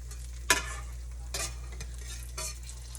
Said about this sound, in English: Now these fry up in no time.